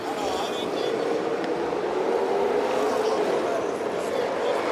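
A 2001 Harley-Davidson Sportster racing at an X Games Hooligan qualifier, its engine a steady, loud drone mixed with crowd and track noise, with no clear rise or fall in pitch.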